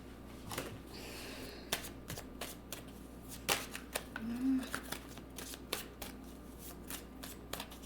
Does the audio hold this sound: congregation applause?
no